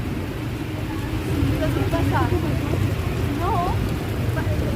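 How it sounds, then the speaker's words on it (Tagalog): A steady, dense wash of rain pours down continuously, with birds chirping faintly in the background. "Ang lakas ng ulan."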